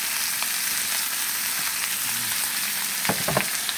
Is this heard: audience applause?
no